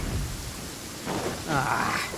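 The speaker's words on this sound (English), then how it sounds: "Uh-oh! Lightning storm!" Thunderstorm with rain in the Genshin Impact video game: a steady, broad rush of rainfall swells twice into louder rumbling surges, with a voice briefly audible over it.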